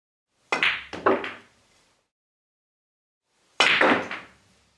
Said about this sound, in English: Here are draw shots of increasing speed under normal conditions.